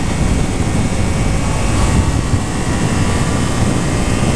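A 2015 Yamaha FZ-07 motorcycle accelerates hard in third gear, its engine note a loud, steady, continuous roar close to the microphone with constant wind and road noise.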